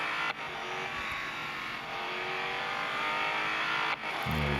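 A Ford Mustang road car revs hard in a racing video game, its engine a sustained loud drone that climbs in pitch, cut by two quick gear-shift dips and a brief tire squeal near the end.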